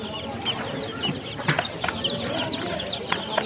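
Chickens and roosters at a bird market in Mirpur, Dhaka cluck in a busy, overlapping chorus, with sharp close calls and softer background clucking throughout.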